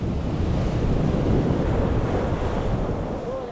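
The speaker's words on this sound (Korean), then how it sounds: "현재 6급, 즉 초속 12m 정도의 바람이 불고 있다." Strong desert wind of about 12 metres per second roars steadily and loudly into the microphone, a continuous rushing buffet with no voices.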